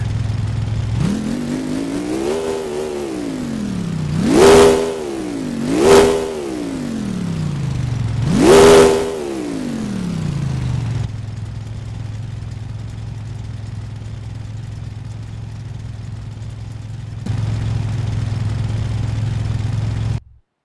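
A car engine that has just been swapped for a used replacement runs loud and rough, revving sharply three times before settling into a steady, throbbing idle, close up with no talking.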